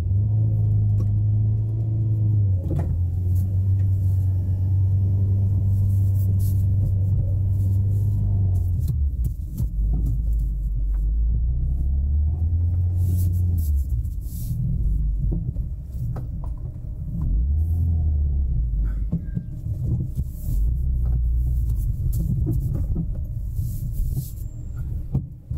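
A 2005 Peugeot 307 CC backs up to park, its engine a steady low rumble with slight shifts in pitch throughout, close and continuous, no talking.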